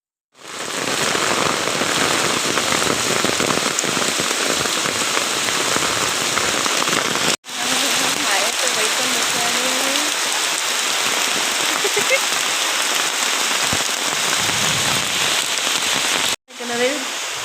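Heavy evening rain pours down in a dense, unbroken hiss of drops hitting surfaces, loud and steady throughout, with two abrupt momentary cuts in the sound.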